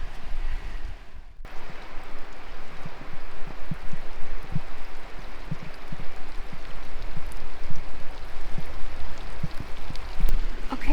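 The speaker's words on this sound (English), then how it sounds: "Okay, it's raining quite a bit now." Steady heavy rain falls on a muddy riverside foreshore, a dense, close hiss with scattered louder drops tapping nearby, continuous throughout with no voices.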